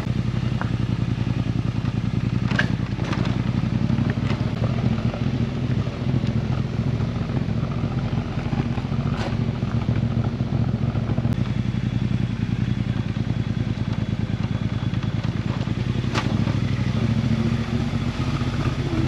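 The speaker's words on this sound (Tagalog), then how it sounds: "Bagamat malalaki yung motor na ating dala, hindi ito akma sa kondisyon ng kalsada." Large motorcycles labouring over a broken, rough road on a ride between Loei and Nan provinces: a steady, close engine drone with rattling clatter and wind buffeting throughout, no talking.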